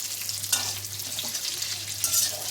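Pointed gourd (potol) fries in a pan for prawn curry, giving a steady, close hiss of oil with brief louder crackles and no talking.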